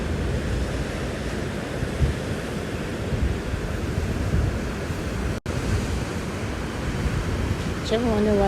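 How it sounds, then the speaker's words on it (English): Ocean surf breaks on the shore at MacKerricher State Park as a steady, loud roar of waves mixed with wind buffeting the microphone, with a brief voice near the end. "Do you ever wonder why people are so fascinated with just watching waves?"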